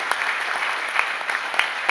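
A seated audience at a direct-selling wellness training event giving loud, sustained applause, a dense steady wash of clapping with occasional sharper claps standing out.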